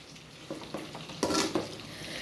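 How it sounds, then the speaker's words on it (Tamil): Chicken fried rice stirred in a pan with a spatula, a soft, steady sizzle broken by several scraping strokes, the loudest near the middle. "நல்லா இந்த மாதிரி நல்லா கிளறி விடணும் ஃப்ரெண்ட்ஸ்"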